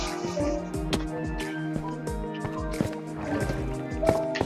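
A Minecraft water elevator gives off continuous video-game water sounds, bubbling and splashing with dense dripping ticks at a steady moderate level.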